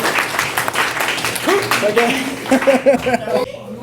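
Scattered hand clapping from a live audience rattles along while voices talk over it in French, the clapping thinning out toward the end.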